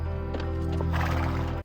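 A horse whinnies loudly and close in a dramatic TV scene, a drawn-out neigh over a steady low musical drone with no voices.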